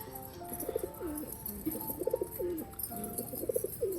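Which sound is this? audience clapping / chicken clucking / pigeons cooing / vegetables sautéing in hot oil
pigeons cooing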